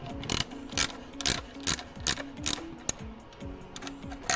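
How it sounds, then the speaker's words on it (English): Bolts on a Chrysler Town and Country engine are tightened by hand with a ratchet, giving repeated quick clicking bursts in an uneven rhythm, close and fairly quiet. "I'm just going to use my muscles and torque these bolts down evenly and nicely"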